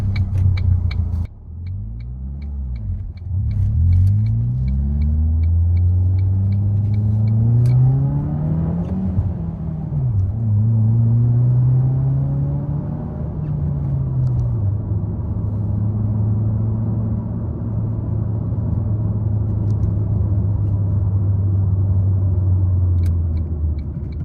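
A Ford Focus drives along a street from inside the cabin, engine droning low and loud as it pulls away, revs rising and falling through gear changes, then settling into a steady hum.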